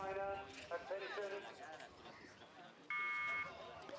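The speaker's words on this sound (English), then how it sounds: "And there goes the buzzer," A start buzzer sounds at an under-19 world championship rowing final in Varese, Italy, as a short, steady electronic tone under a commentator's ongoing talk.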